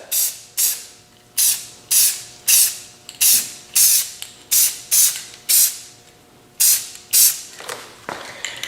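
Short bursts of spray paint hiss onto an engine block as a light coat goes on, about a dozen loud, close pulses in a steady rhythm with short gaps between them.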